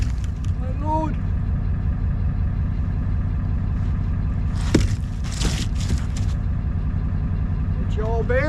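A car engine idles steadily inside a shop with a low, continuous rumble close by, while people talk intermittently over it and short bursts of clatter break in near the middle.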